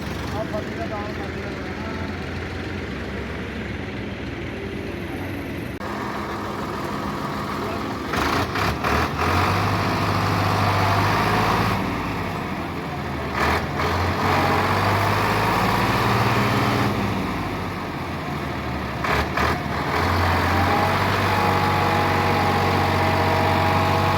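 A Ford 4610 tractor in Pakistan, pulling a sugarcane-loaded trolley, runs with a steady low engine rumble that rises and falls in bursts, close and loud, with a few brief voices over it.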